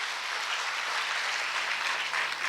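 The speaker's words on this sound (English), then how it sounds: "Please give them a big round of applause for these wonderful ladies." Sustained crowd applause from an audience at a meeting of women entrepreneurs in Mangaluru, a dense, steady wash of clapping holding level throughout, fairly close and loud with no voices over it.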